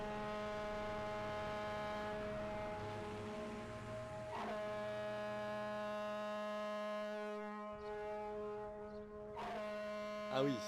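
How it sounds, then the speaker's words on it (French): A civil defence siren, tested monthly as a dam-failure warning, sounds a steady, harmonic-rich wail with slight pitch dips. It is heard faintly and from a distance across the whole stretch. "il y a aussi une sirène qui est testée tous les premiers mercredis du mois en cas de rupture de barrage."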